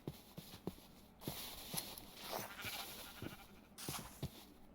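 Several short sheep bleats from a video game, spaced irregularly across the moment, with soft blocky footstep-like thumps and a steady ambient wash beneath; no talking.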